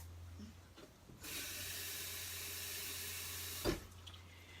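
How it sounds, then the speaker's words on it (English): Water runs steadily from a kitchen tap, a continuous hissing stream that starts abruptly and flows at even strength close by, ending with a brief clunk near the finish. "Let me get some water."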